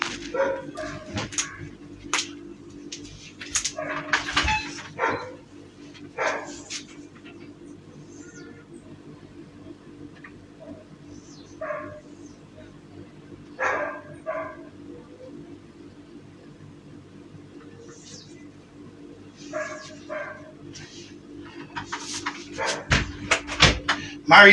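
Dogs bark and yip in scattered bursts, some near and some farther off, over a steady low hum, with quiet stretches in between.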